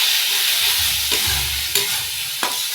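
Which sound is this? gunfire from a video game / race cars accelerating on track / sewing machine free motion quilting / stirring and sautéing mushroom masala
stirring and sautéing mushroom masala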